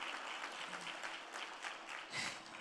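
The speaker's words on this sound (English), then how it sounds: "Another round of applause for Annis." An audience at a dinner-group conference claps steadily, a faint and somewhat distant wash of applause heard throughout with no break.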